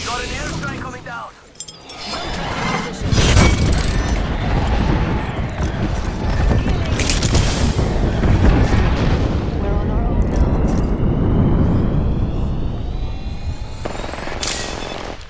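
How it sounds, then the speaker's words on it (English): Airstrike explosions pound down during a battle royale match, a long barrage of heavy booms and rumbling blasts that keep rolling for many seconds, with voices talking over the chaos. "we got an airstrike coming down"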